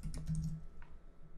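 A short burst of quiet computer keyboard typing, a handful of light quick key clicks close to the mic, fading into faint background hum.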